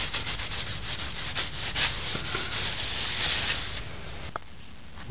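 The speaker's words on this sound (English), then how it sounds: "Now you can clean all your fingerprints and grease off your flywheel using isopropyl alcohol." A car flywheel from a Toyota pickup clutch job is wiped with a rag soaked in isopropyl alcohol, giving a continuous close rubbing and scrubbing hiss that ends with a short tap, and no voices are heard.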